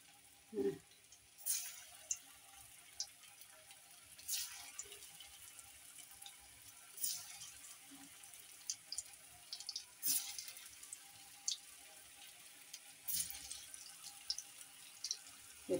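Balls of dough fry in hot oil with a faint, continuous close sizzle, broken by occasional louder splashes and clinks as pieces are dropped in or turned.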